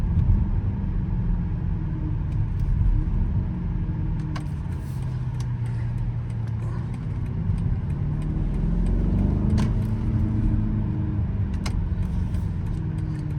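A BMW X5M driving on a road, its steady low engine rumble and tyre noise continuous and close throughout, with a few faint clicks and ticks from inside the cabin and no talking.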